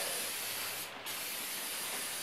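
Spray can painting a carved sign: a steady, close hiss of aerosol paint that cuts out briefly for a moment before resuming, with no talking.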